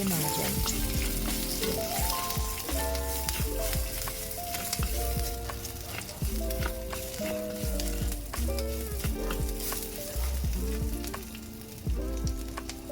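Ingredients for a ragi vegetable soup sizzle and crackle steadily in a hot pan, with scattered pops and occasional stirring. The sound stays close and continuous throughout, and nobody speaks.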